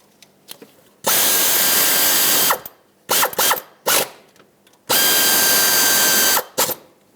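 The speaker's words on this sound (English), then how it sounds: "install the two bolts that hold it" A hand ratchet tightens the bracket bolts on a 2006–2011 Honda Civic during a thermostat replacement: two long, loud, rapid clicking runs, with a few short clicks between them, close up in a quiet garage.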